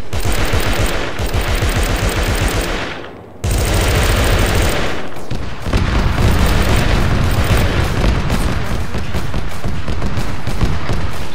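Dense, loud gunfire and booming explosions in the video game Arma 3, a continuous barrage of rapid shots and heavy blasts with only a brief dip before the roar resumes, no voices.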